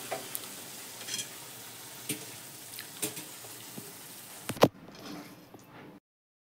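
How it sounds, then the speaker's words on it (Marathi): Carrot halwa made with milk being stirred in a pan as it dries, with a low frying hiss and intermittent spoon taps and scrapes, then a louder clatter before the sound fades out. "आता आपण पूर्ण असंच हलवीत राहायचं पूर्ण सुक्क होईपर्यंत, खाली लागेल याची काळजी घ्यायची।"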